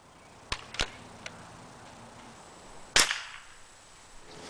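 A Tech Force 97 air rifle fires a single shot at normal power, giving one sharp, loud crack, preceded by a few fainter clicks from handling.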